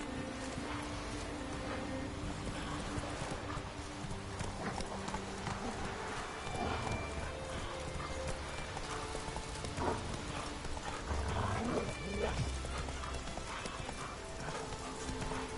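Geralt's horse Roach trotting in The Witcher 3, with steady clip-clopping hooves throughout, mixed with an occasional whinny and game ambience, under faint voices.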